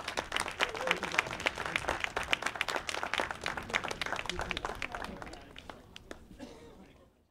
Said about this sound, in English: Let's give all our veterans a round of applause.